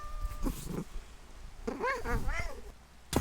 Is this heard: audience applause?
no